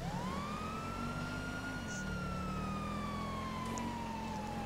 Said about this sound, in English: if you turn on your sirens, then people will pull over out of your way